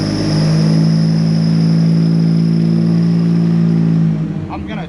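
LJNS ZX engine running with a restricted exhaust, a loud steady drone with strong low harmonics that holds evenly for about four seconds, then cuts back and fades.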